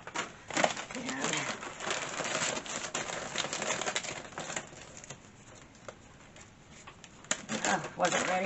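Bird seed spills into a chicken feed mix, a quick patter and rattle of small grains in irregular bursts, close but fairly quiet, with a voice speaking briefly over it.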